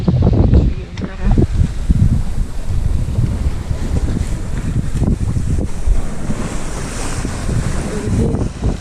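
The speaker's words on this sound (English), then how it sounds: "We just had these few squalls over here going through, which brought me a little bit of wind." Wind gusting across a sailboat at sea after passing squalls, a loud continuous rush with water sloshing, heard under someone talking.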